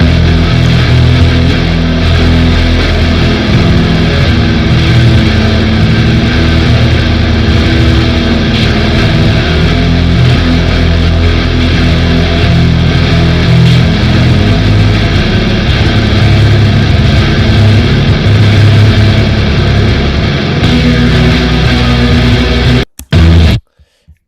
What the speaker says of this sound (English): the guitars all together, they sound like this